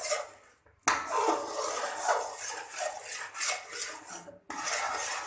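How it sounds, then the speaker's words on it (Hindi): Chana dal halwa mixture being roasted in a pan, with steady scraping and clinking of a utensil against the metal and broadband stirring noise, briefly pausing twice. "अच्छी तरह इसको भून लेना।"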